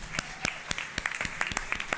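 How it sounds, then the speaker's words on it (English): Scattered, sparse hand clapping from a small group at a school board meeting, individual claps distinct and uneven, fairly quiet with no voices. "Join me for a round of applause for these outstanding accomplishments."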